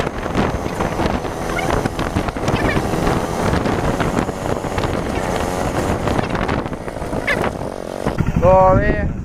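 A newly bought motorcycle being ridden, its engine droning steadily beneath wind rush and people talking, with a horn-like tonal burst near the end.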